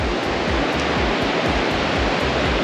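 Broad steady rushing of a river far below the drop-off of a cliffside road in the Annapurna mountains, a constant dense wash of water noise with no voices.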